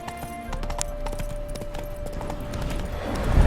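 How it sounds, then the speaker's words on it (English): Horse hooves clip-clop steadily at close range in The Witcher 3 video game, a rhythmic series of hollow knocks under ambient game sound and a sustained tone. "Spooking my horse."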